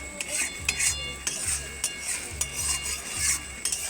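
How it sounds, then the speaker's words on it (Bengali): Chopped tomato being stirred and sautéed into a spice masala in a pan, with rhythmic scraping strokes repeating about once every second over a soft background hiss. "এইবার টমেটোটা দিয়ে আর একটু নাড়াচাড়া করে কষিয়ে নেব।"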